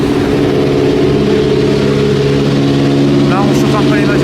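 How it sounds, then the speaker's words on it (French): Several car engines idle steadily at a warm-up before a classic car event, with a constant low rumble throughout and a brief higher squeal or rev near the end, loud and close. "On chauffe un peu les moteurs tranquillement"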